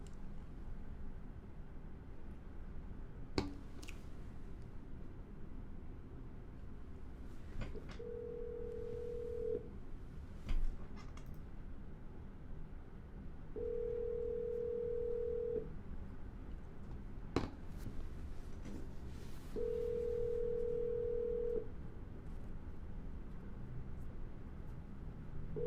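A phone call rings out: a few faint clicks, then three long ringback tones, evenly spaced, sounding over a low steady hum from the line.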